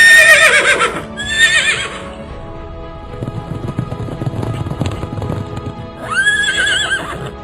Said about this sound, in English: the sound of the horses bolting away